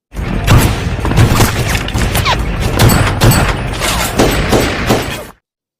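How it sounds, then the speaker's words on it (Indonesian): Loud, dense bursts of gunfire crackle and boom in rapid succession during a movie shootout, with heavy thuds and crashes layered throughout a chaotic exchange. "melepaskan tembakan ke arah anak buah Bland, menyebabkan baku tembak terjadi"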